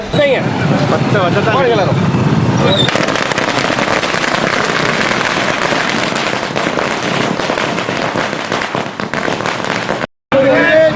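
Firecrackers burst at an outdoor birthday celebration in Tirunelveli, a loud dense crackle of rapid pops sustained over crowd noise, with a brief silent gap near the end before the bursting resumes.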